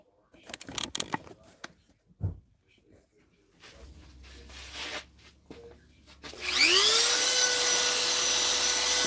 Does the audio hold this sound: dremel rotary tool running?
yes